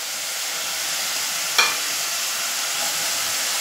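A paste of ground ginger, garlic and green chili fries in hot oil with a steady bright sizzle, interrupted once by a single sharp clatter of a utensil partway through.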